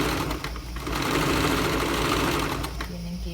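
A sewing machine runs in a steady whirring burst while stitching the seams of a raglan-sleeve blouse, close and loud, with a voice talking over it.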